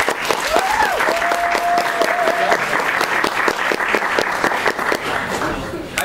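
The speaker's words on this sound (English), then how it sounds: "Can we give him a round of applause, please?" An audience at a science pub evening in Anchorage claps loudly and continuously for a wildlife conservation speaker, a dense steady applause with some cheering and talk mixed in.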